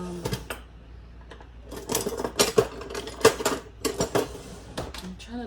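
Metal kitchen utensils clinking and rattling as someone rummages through them for a spoon, irregular clattering bursts growing busier toward the middle, close by and without talk.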